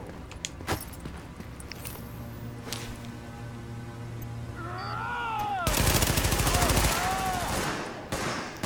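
Bursts of automatic gunfire crackle loudly in Tom Clancy's The Division over a low game backdrop, preceded by a few scattered single shots and ending in a sustained volley.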